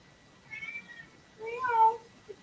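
A cat meows twice in a home kitchen, the first call short and mid-pitched, the second longer and rising with a clear tonal whine, close to the listener in an otherwise quiet room.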